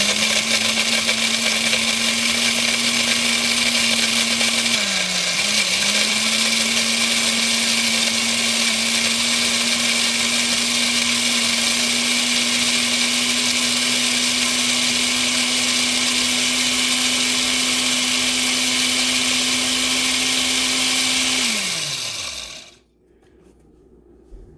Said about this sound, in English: I'm gonna throw it in the blender